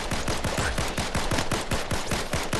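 Rapid automatic gunfire from a first-person shooter built in Unreal Engine 5, aimed at a llama: a steady stream of about fifteen close, loud shots in even rhythm with no pauses.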